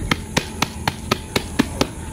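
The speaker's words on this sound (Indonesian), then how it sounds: "Jadi ini seperti biasanya saya tepuk-tepuk dulu, jadi tidak terlalu lengket" Hands pat the side of an Aglaonema plant pot to loosen the soil, eight evenly spaced dull knocks at a steady rhythm, close and clear with no talk.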